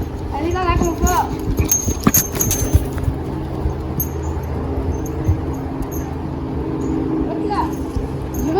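A horse moves about during groundwork training, with hoof clip-clops and shuffling nearby while a person talks over them.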